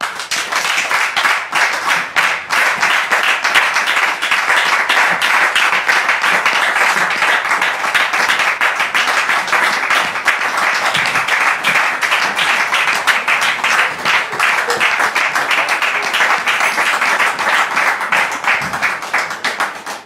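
Audience applause welcoming a guest named Cédric onto a programme, sustained brisk clapping from a room of people, steady and fairly loud for the full twenty seconds.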